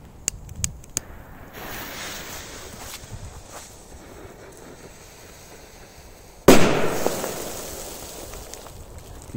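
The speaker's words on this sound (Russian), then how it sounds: "Так, есть петарда Макси." A Maxi firecracker goes off with a single sharp, loud bang after a stretch of quieter outdoor ambience with a few small pops, followed by a decaying rumble and crackle.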